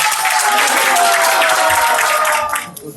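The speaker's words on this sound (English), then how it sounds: "Kindly encourage our little performers with a big round of applause." A crowd at a cultural program applauds child performers in a loud, dense burst of clapping that holds steady before tapering off at the end.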